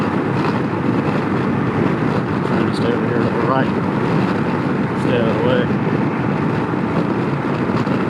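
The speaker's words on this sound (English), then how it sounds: "These are 45-mile-an-hour gusts." Strong 45-mile-an-hour wind gusts roar across the microphone in a continuous heavy rush while a man riding a Can-Am Ryker talks over it.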